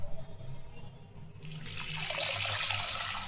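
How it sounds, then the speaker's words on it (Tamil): Water runs from a tap and pours onto soaking urad dal for idli batter, starting as a quiet trickle and swelling after a second into a steady, full gush that continues to the end, alone without talk. "உளுந்தையும் நல்ல தண்ணி ஊற்றி ஊற வச்சுக்கலாம்"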